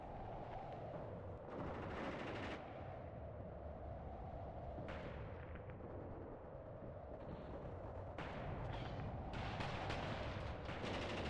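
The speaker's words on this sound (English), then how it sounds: "They're firing with the autocannon. I can hear it, but they're firing armor-piercing rounds at infantry" In the Mius Front war game, an autocannon firing armor-piercing rounds at infantry sounds as faint, distant bursts of rapid booming shots that recur several times over a low, rumbling battlefield background.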